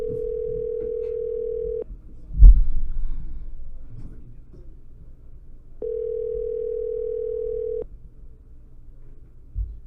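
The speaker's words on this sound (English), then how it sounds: "please make Janela answer her phone" Steady telephone dial tone on a call, sounding in two long unbroken stretches separated by a gap with a brief thump and faint noise, loud and close with no talk over it.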